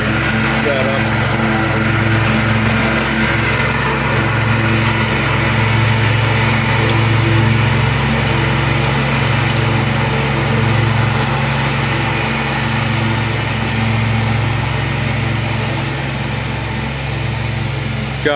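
A large city mower engine drones loudly and steadily while cutting seven-foot-tall grass in East Dayton, a continuous close motor hum with slight pulsing, with a voice talking over it.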